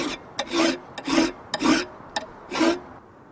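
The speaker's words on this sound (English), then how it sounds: "That's the filing done." Metal file rasping on a steel knife blade made from an old file, four long strokes back and forth with short gaps, close and loud, no voices.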